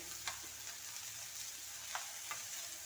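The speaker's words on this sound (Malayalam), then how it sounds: "അതിലേക്ക് നമ്മൾ ഉരുളൻകിഴങ്ങും സവാളയും ഉരുളൻകിഴങ്ങും ക്യാരറ്റും എല്ലാം ഇട്ട് വഴറ്റിക്കൊണ്ടിരിക്കുകയാണ്" Potatoes, onion and carrot sautéing in a pan, a soft continuous sizzle with occasional light stirring clicks, fairly faint and steady, ending on a sharper clatter.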